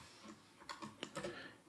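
Quick, faint keystrokes on a computer keyboard, a short irregular burst of clicks with a few sharper taps, typed alone without talk.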